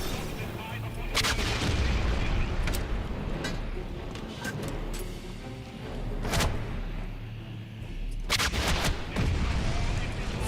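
Rockets launched at buildings in the Wolfenstein video game, a dense barrage of loud booming blasts and sharp cracks over a heavy rumbling battle bed, with repeated explosions through the whole stretch.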